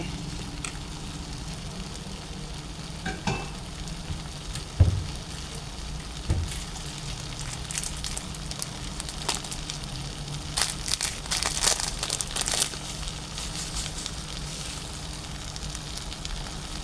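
Kimchi fried rice sizzles and fries in a pan, a steady crackling hiss with scattered sharper pops and stirring clatters that grow busier toward the end.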